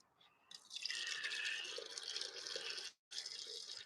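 Water splashing and dripping steadily from a watering source onto potted plants, close and fairly quiet, with a brief gap near the end before it resumes.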